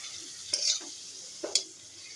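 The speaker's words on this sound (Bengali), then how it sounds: "পাঁপড় ভাজি বন্ধুরা" Papad frying in a pan gives two brief, crackling sizzle bursts about a second apart over a faint, steady background hiss.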